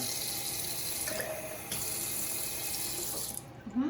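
Cold water running from a kitchen tap, a steady close splashing stream that cuts off near the end.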